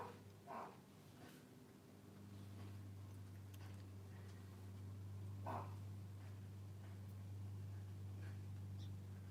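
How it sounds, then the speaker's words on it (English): A dog barks a couple of times at a distance, separated by a long pause, over a steady low electrical hum. "I don't know what my dog is barking at."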